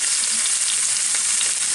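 Onions for shepherd's pie hit a hot pan with a loud, dense, even sizzle that holds steady throughout.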